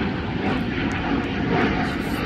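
Propeller airplane engine drones steadily overhead in the Roblox game Chedgy's Academy, a continuous broadband roar that stays loud and even for the whole stretch with no talk over it.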